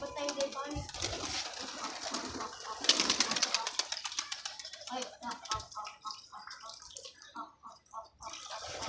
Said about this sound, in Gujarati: તો આ કબૂતર જે ઉતરતું નથી, અમને હેરાન કરે, પછી ઉતરી જાય.